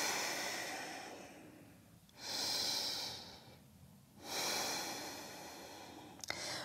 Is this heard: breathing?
yes